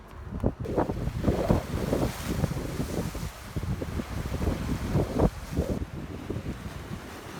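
Gusty seaside wind near a lighthouse buffets the microphone in loud, uneven rumbling bursts over a continuous roar, with no voices.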